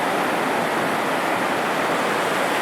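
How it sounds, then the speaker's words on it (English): Floodwater of the Albert River in heavy spate rushes past in a loud, steady, broadband roar close at hand, with no voices over it. "that water rushing past"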